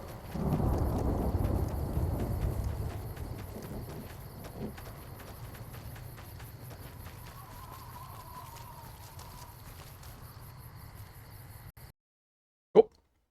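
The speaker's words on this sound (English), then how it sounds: "I'm fine with just a thunderstorm." A thunderstorm rumbles in Fallout: New Vegas, a broad low roll that is strongest at first and slowly fades under rhythmic clopping footsteps, then cuts to silence before one sharp brief crack.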